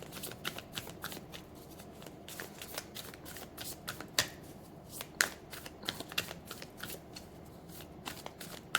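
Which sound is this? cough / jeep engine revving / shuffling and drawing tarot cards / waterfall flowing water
shuffling and drawing tarot cards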